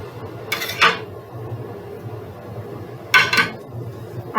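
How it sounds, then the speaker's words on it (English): Mushrooms go back into a cooking pan, two brief bright clinks of utensil against the pan a few seconds apart over a low background hum, with no talk. "this is when I put the mushrooms back in the pan"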